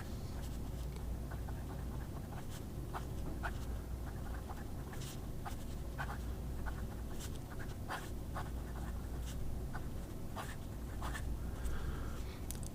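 Steel No. 8 fountain pen nib writing on paper with a medium-wet flow, soft continuous scratchy scrape broken by small ticks and taps of strokes, quiet and close with no talking.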